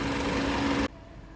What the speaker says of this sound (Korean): 시동 한 3분 정도 걸어두고